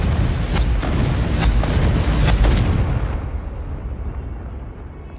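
A Confringo blasting spell explosion in the Hogwarts Legacy video game, a loud, deep rumbling boom with crackling debris that holds for about three seconds, then rolls off into a fading low rumble.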